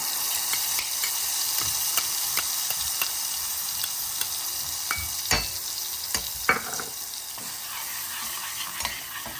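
Spiced masala paste sizzles and crackles steadily in hot oil with asafoetida in a pan, with occasional sharper pops and stirring clinks over a continuous frying hiss, fairly close and alone.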